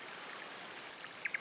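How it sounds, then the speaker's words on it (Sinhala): A water stream flows in a faint, steady hiss with a few tiny splashes and drips near the end, no voices present. "මේ වතුර පාර කොහාටද යන්නේ?"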